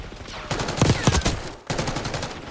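Rapid bursts of gunfire in Call of Duty: Black Ops 6 during a competitive varsity esports match, sharp repeated shots clustered in the first half, with steady game ambience continuing after.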